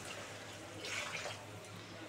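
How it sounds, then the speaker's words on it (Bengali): Mixer rinse water is poured into a pan of fish curry, a faint, short watery splash near the middle of an otherwise quiet moment. "এই যে মিক্সি ধোয়া জলটা দিয়ে দিচ্ছি"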